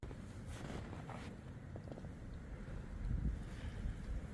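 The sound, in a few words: cold wind blowing outdoors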